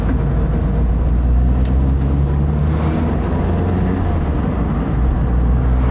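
A 1982 Ford Escort Mk3 with a 1.3-litre engine driving, a loud steady low engine drone and road rumble heard from inside the cabin, continuous and unchanging throughout with no talk.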